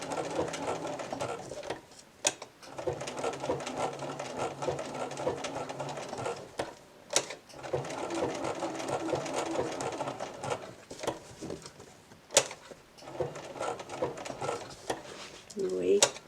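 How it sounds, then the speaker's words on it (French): A Bernina sewing machine works slowly through a blanket stitch for appliqué, its motor running in steady stretches with brief pauses and clicks as the fabric is turned, close and moderately loud, with faint talk. "C'est quand même un énorme avantage d'avoir une machine où on arrive à faire point par point, doucement"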